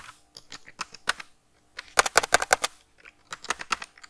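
Code typed on a computer keyboard: sparse single key clicks, then a quick rapid burst of keystrokes, a pause, and another short flurry, all fairly quiet and close.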